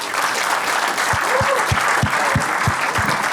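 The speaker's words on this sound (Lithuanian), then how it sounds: "Su jūsų plojimais." An audience at a comedy club show breaks into a dense, steady round of applause, loud and continuous, with a few deep thumps underneath.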